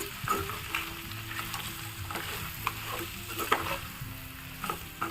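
Crabs sizzle and fry in a hot pan while being stirred with salt, chilli, garam masala and cumin powder, giving a steady crackle with scraping stir strokes and occasional sharper spatters, fairly close.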